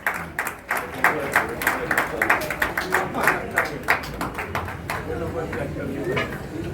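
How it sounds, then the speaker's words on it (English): Applause from a residential society's Independence Day gathering, a thinner group of hands clapping with distinct sharp claps in an uneven rhythm, with voices talking over it. "A great round of applause."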